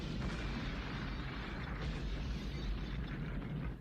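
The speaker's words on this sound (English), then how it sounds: "ending with Eric, the child protagonist, kicking the bucket in a horrendous gas station explosion" A large gas station explosion in a movie, a dense, sustained roaring blast with heavy low rumble and crackling debris, loud and continuous for several seconds without speech.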